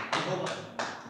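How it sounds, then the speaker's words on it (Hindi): An audience claps to welcome poet Santosh Pateriya at a kavi sammelan in bursts of applause, with a broadband wash of hands that comes and goes in short surges. "बहुत ही जोरदार तालियों के साथ आदरणीय दादा संतोष पटेरिया जी का स्वागत कीजिए"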